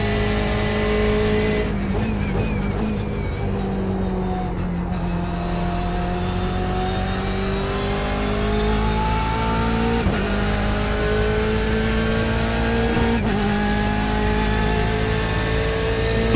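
A BMW GTE race car engine drones at high revs through a Monza lap in the iRacing simulator, pitch sliding steadily up and down through gear changes with brief shift dips, loud and continuous.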